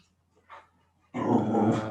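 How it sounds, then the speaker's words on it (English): A dog nearby gives a short low growl, then launches into a loud, sustained growling bark that continues to the end. "Sorry guys, my dog's barking."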